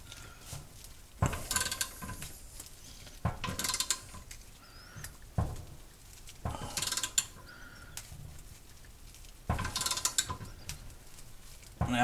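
An upper control arm bushing pressed in with a socket, periodic metallic clanks and creaking mechanical strain in a few distinct bursts over quieter ratcheting and handling noise, close by.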